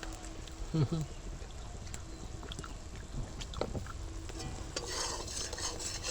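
Spice masala sautéing in a pan for a green pea dish, a low steady frying hiss with intermittent scraping and clinking from stirring and a faint voice now and then.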